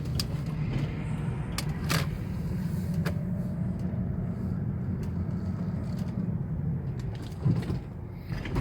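A taxi rolls slowly into a car wash on a windy day, its engine giving a steady, close low rumble throughout, with a few brief sharp clicks and knocks above it and no talking.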